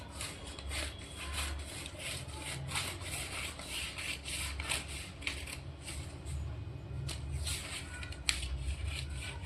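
Scissors cut through cloth for a pair of shorts during a tailoring lesson, making a faint, steady run of soft snips and rasping strokes against a quiet background.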